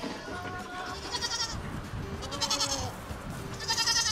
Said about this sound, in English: So let's go check out the goats and see what they're up to.